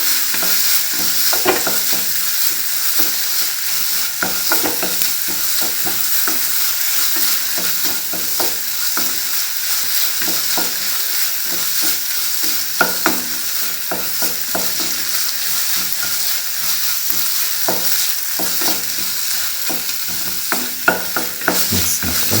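Pineapple and coconut mixture stirred in a heated pan, with a steady sizzle and frying hiss under repeated scraping strokes of the spoon throughout, close and fairly loud, no voices.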